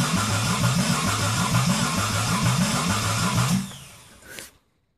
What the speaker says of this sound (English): So we're going to turn this over now that the battery's full.